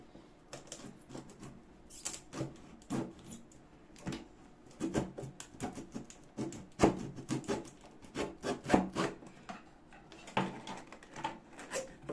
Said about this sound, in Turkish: Şimdi kutumuzu açıyoruz.